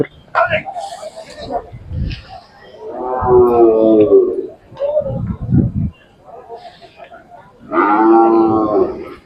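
A Khillar cow moos twice in long, low, drawn-out calls, close by at a cattle market, with people talking in between.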